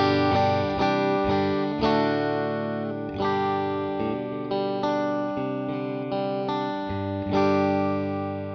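Squier Affinity Stratocaster electric guitar with the middle and bridge pickups combined, played through distortion and chorus effects: a steady run of strummed chords with sustained, shimmering tone, loud and close with no talking.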